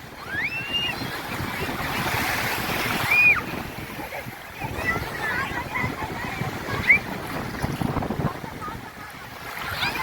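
Sea waves wash onto the shore at Suvali beach at high tide after the full moon, with wind buffeting the microphone, a steady rolling rush that swells and eases, plus a few brief high chirps and faint voices.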